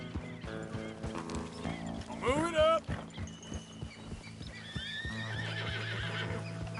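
Horses whinny loudly over steady clip-clopping hooves in Red Dead Redemption 2, with a bright neigh in the middle, while a person talks briefly and background music plays.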